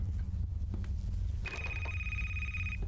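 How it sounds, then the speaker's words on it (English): A telephone rings inside a spooky horror video game, a steady electronic trill that starts partway through and repeats over a low, droning ambient background, with no talking. "We have a phone ringing."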